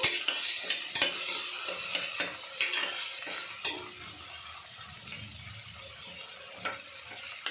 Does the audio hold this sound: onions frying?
yes